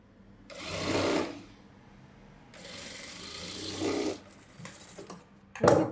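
A sewing machine stitches a boat neck blouse in short, close bursts of rapid whirring, pausing briefly between runs, with no talking.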